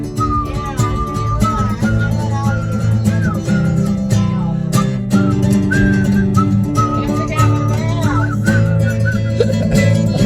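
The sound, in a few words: whistling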